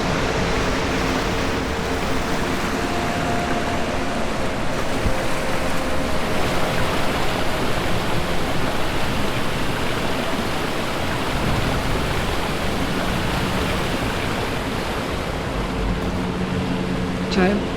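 A video game waterfall gives a steady, loud rushing roar that holds evenly throughout, with someone talking over it.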